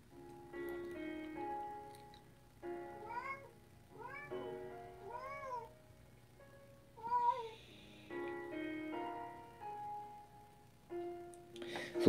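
A cat in heat meowing loudly indoors, a long series of drawn-out, wavering yowls and meows coming in bursts with short pauses, close and insistent, faint background hum underneath.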